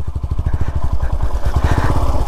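A motorcycle ridden hard in first gear, its engine pulsing in a steady loud chug close to the mic with clattering mechanical noise and no second gear taken.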